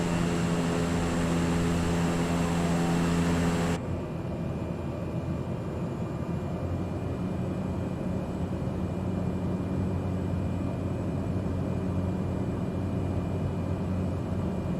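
An airplane in a bush-flying video game set in the Himalayas lands on a short dirt strip. A steady tonal engine drone cuts off abruptly, giving way to a lower, continuous rumbling hum.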